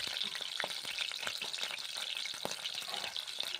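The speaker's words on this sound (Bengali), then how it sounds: "মাছ ছেড়ে দিচ্ছি গরম তেলে কড়াইয়ে।" Pomfret fish fries in hot mustard oil in a wok, giving a soft, continuous sizzle with scattered crackles and pops at low volume.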